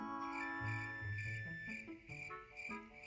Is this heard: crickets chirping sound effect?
yes